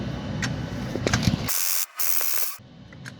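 Impact wrench loosening long timing-cover bolts on a 2004 Toyota Sienna, with a loud sustained hissing, hammering burst of about a second that pauses briefly and then stops, set among workshop clatter.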